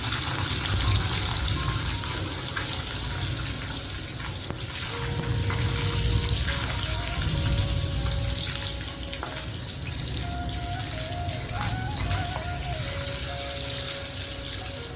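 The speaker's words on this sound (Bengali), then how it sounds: "মাছগুলো খুব কড়া করে ভাজবো না, বাস এপাশ ওপাশ হালকা হালকা করে ভেজে নেব।" Pieces of katla fish fry lightly in oil with a steady bubbling sizzle. Faint tonal kitchen sounds and clinks run beneath it for the whole stretch.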